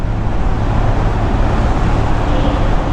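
Loud, continuous low engine rumble of a motorcycle echoing through a tunnel, a steady droning roar with no pauses.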